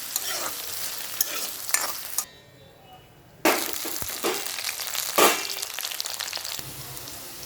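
Eggplant fried in a pan and stirred now and then, so a crackling sizzle comes with clattering scrapes in bursts and drops out briefly to near silence partway through. Nobody speaks.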